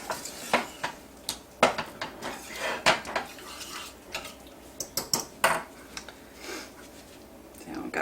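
Small spatula scraping butter and chocolate out of the middle of a metal whisk in a home kitchen, giving a string of light clinks and scrapes, fairly quiet and close, in irregular bursts.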